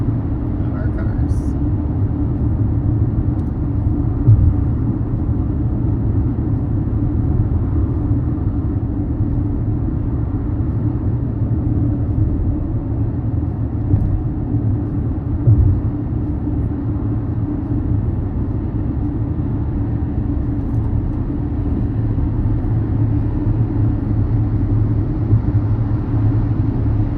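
A car driving in Seattle traffic gives a steady, low engine-and-road rumble that holds evenly throughout, heard from inside the vehicle.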